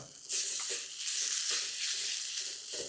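Turmeric, asafoetida and ginger-garlic paste frying with onions for an egg curry, a loud close sizzle that surges as the paste hits the oil, with brief stirring scrapes.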